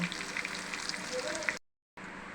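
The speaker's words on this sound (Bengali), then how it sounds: "বাকিগুলো এভাবে ভেজে নেব" Chicken pieces fry in hot oil with a steady crackling sizzle, broken by a short silent gap before the frying resumes.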